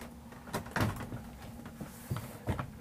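A heated drawer in the cabinet of a new ambulance is handled, giving several soft knocks and clunks spread across a few seconds against a low hum, fairly quiet and close.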